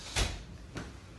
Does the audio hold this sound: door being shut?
yes